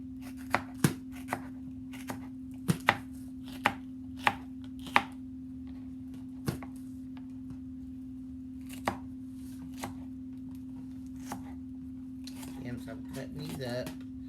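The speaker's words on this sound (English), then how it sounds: "Let's go ahead and cut up these peppers." A knife chops peppers on a board with crisp, irregular knocks, some in quick pairs. The strokes thin out and fade toward the end over a steady low kitchen hum.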